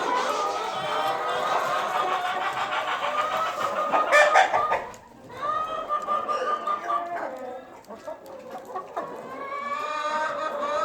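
A flock of chickens clucking and squawking close by while eggs are collected, busy and overlapping, with a brief lull midway and a voice talking faintly among them.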